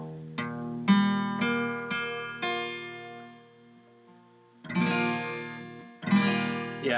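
A guitar in open tuning with a capo sounds five single notes plucked one after another, each ringing out, then a quiet pause before two louder, fuller strums that sustain and fade.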